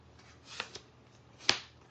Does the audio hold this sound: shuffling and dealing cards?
yes